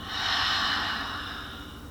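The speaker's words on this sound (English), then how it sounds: "Fill your lungs and then part your lips and exhale." A long, steady breath pushed out through parted lips during a calm yoga relaxation, with breathy broadband noise that rises quickly and slowly fades over about two seconds, close and alone with no talking.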